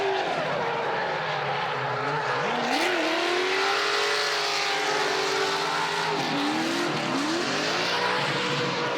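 A Flanker F race car on a qualifying run in the RDS GP, its engine loud and close, rising and falling through gear changes with intermittent tire squeal and no talk.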